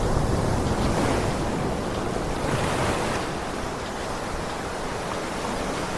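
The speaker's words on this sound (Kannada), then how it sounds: "ಅಲೆಗಳು ಫುಲ್ ಸ್ಟ್ರಾಂಗ್ ಆಗಿದೆ ಅನ್ನಿಸ್ತಾ ಇದೆ" Heavy surf roars in a constant, dense wash at a Pondicherry surfing beach, waves crashing close by with a blustery rush of wind over the microphone.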